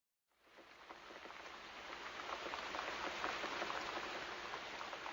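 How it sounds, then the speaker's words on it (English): Heavy rain sets in after a brief silence, a dense, steady hiss of falling water with scattered drops that grows slightly louder and holds. "Then it began to rain. It rained a lot"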